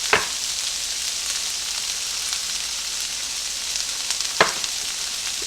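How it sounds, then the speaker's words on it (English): Onions frying in a pan give a steady, close sizzle with a couple of brief stirring scrapes, no voices. "Now when you cook onions, you want to make sure you season with some salt and pepper."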